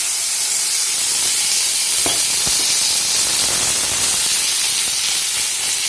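Hot oil sizzles steadily in a cooking pan, with a loud continuous hiss and a few sharper crackles in the middle as vegetables such as okra are fried in a home kitchen.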